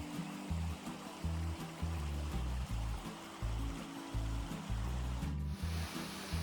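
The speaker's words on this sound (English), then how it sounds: "There were also amazing waterfalls after waterfalls." Water rushing at a waterfall in Pictured Rocks National Lakeshore, a steady broadband roar heard up close, with low rumbling gusts that may be wind buffeting the microphone.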